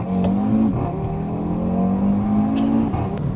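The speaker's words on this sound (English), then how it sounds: "this is what I mean about the upshifts and downshifts on the RS3s pre-facelifts. Such a wonderful noise." A Nardo Grey pre-facelift Audi RS3 8V hatchback engine revs hard and loud, its pitch climbing and then dropping sharply through quick upshifts and downshifts, with no talk over it.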